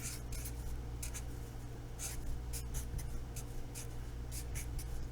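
Pen or marker writing on a board during a statistics lecture, a faint run of short scratchy strokes in irregular bursts over a steady room hum, with no talk.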